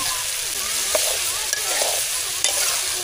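Raw green banana stirred into spices fried in a pan sizzles steadily, with a few sharp scrapes and clinks of the spoon against the pan, close up and without talking.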